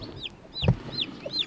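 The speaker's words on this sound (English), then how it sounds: "So this is Nutmeg's coop, and here she is on the inside." A broody hen clucks inside her coop, giving several short, close, rising chirpy clucks in an uneven rhythm, along with one low soft grunt partway through.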